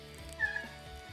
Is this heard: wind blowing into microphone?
no